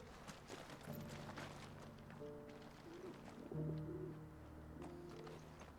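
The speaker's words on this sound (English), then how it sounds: "I swear I'm hearing like a bird or something." A dove or pigeon cooing in the Final Fantasy XVI video game, soft repeated low coos set in a busy ambient background of game sounds, faint and somewhat distant.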